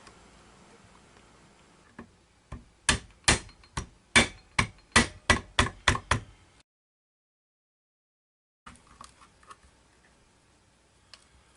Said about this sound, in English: I need to use a screwdriver and mallet to start it